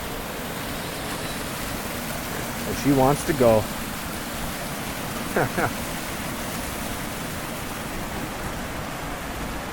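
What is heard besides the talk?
small waterfall at Worlds End State Park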